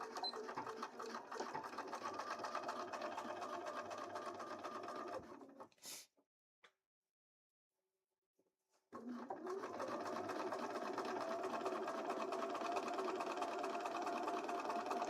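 A sewing machine stitches pieces of a Twilight Princess Link cosplay together, running steadily, stopping into near silence for about three seconds, then starting up again and running to the end.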